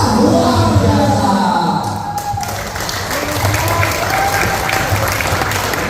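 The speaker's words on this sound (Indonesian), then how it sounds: "Ya, tepuk tangan." Loud sustained applause from a gathered crowd at an Indonesian PWI LS Demak Bintoro Raya meeting, dense clapping mixed with shouts and cheers, easing slightly midway then continuing.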